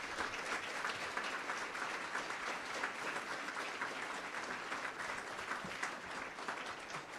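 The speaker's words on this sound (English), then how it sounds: "Let's give our educators a big round of applause." An audience at a community celebration honoring educators applauds steadily for several seconds, a dense, even wash of clapping from a crowd with no voices on top.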